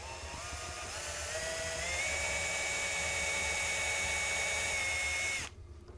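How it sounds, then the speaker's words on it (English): Power drill with a countersink bit boring into an end grain cutting board, a steady high whine that rises slightly in pitch and then cuts off near the end, close and alone. "the only reason I'm using a drill and countersink is it's got the right size bit in it that I want"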